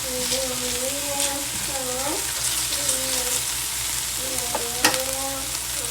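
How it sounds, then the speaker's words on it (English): Haitian epis seasoning, a blended herb and pepper base, fries in a hot pan with a steady sizzle and occasional stirring scrapes, while a voice talks over it. "So we're going to allow our Epis to cook for about a minute."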